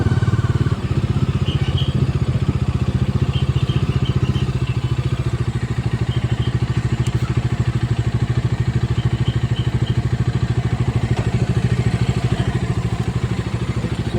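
Bajaj Dominar 250 motorcycles run close by on a breakfast ride, with a loud, steady single-cylinder thrum and rapid pulsing exhaust that hold throughout.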